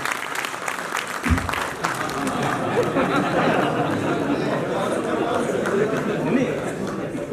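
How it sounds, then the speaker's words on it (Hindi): Audience applause at an annual general body meeting of an association, dense clapping that starts with a sharp burst and then continues steadily and fairly loud, with crowd chatter mixed underneath. "मैं चाहूँगा आप सब लोग एक बार खुशी में इसके लिए ताली बजाएं"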